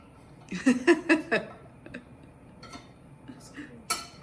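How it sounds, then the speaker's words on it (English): A metal knife clinks and scrapes in a ceramic non-stick pan holding a melting pat of butter, with a quick run of sharp taps followed by scattered lighter clicks, close by amid faint voices. "This is a ceramic non-stick, so I can use a metal knife in there and not worry."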